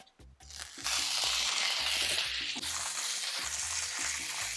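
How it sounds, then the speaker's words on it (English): Pork hits extra virgin olive oil in a hot pan for Portuguese migas, and after a brief quiet start a bright, steady sizzle fills the sound over faint rhythmic background tones. "First thing I'm going to do is add in some olive oil, extra virgin olive oil, and put in my pork."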